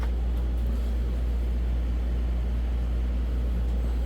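A Milwaukee M18 cordless tire inflator runs with a steady, loud low-pitched motor hum and buzz, close and unbroken, with no voices.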